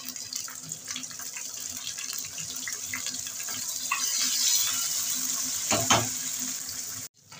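Tomato tipped into a pan of onions frying in oil for a yogurt-and-jackfruit curry: a continuous sizzle that swells midway, with a brief clatter near the end before it cuts off abruptly. No one speaks.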